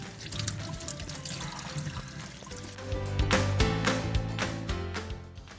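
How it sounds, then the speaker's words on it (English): Mushrooms rinsed under a running kitchen tap, a steady close stream of water splashing and pouring over them with irregular clattering as they are handled, growing fuller and louder midway. "wash it quickly under the water"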